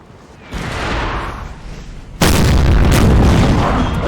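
Artillery fires in the Napoleon: Total War video game. A rumbling boom swells in first, then a louder, sharper blast hits and leaves a sustained roar of cannon fire.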